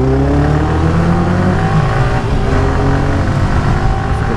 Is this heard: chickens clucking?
no